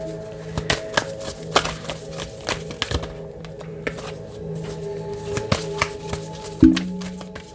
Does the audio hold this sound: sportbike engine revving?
no